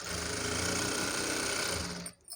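A normal household sewing machine stitching a fall onto a saree runs in a steady, fast mechanical chatter close by, with no talk, then cuts off abruptly near the end before briefly starting again.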